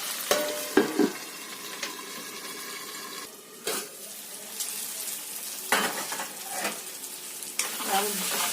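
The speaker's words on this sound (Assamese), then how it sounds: "অলপ টাইম ভাজিব লাগিব আৰু" Pork curry sizzles in a pan for an Assamese-style dish, with steady frying hiss and repeated scrapes and clinks of a spoon stirring against the pan, close and loud.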